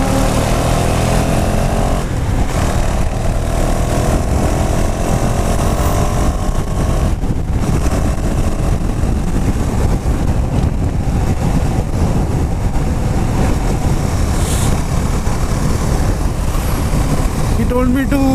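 KTM Duke 390 motorcycle engine cruising on a highway, heard as a steady drone under heavy wind buffeting with a rider talking over it.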